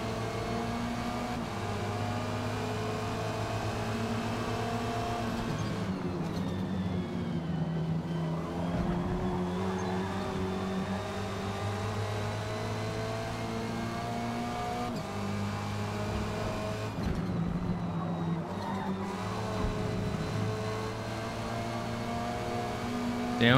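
Race car engine in a chaotic touring car racing video game, droning with steady harmonic tones that drop in pitch twice as it downshifts, loud and continuous with no talking.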